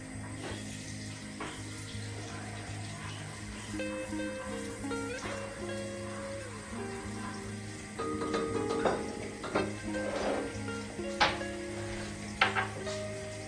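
Butter melting in hot oil in a pot, a steady frying sizzle with occasional clinks and scrapes of stirring and a faint trickle of water.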